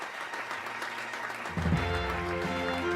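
Applause breaks out about halfway through, a burst of clapping that swells after a quieter, hissy opening, moderately loud and continuous to the end.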